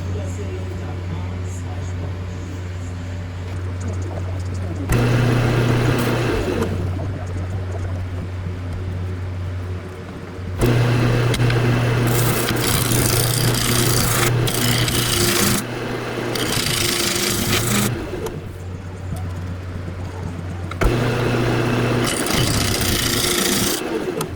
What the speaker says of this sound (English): I'm gonna try to come in here with my scraper